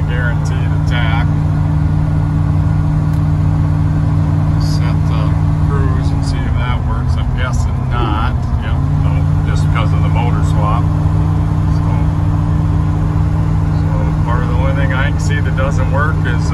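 A 1981 Ford F100 XLT pickup with a 460 engine cruises along, its loud, steady engine drone and road noise filling the cab while someone talks over it.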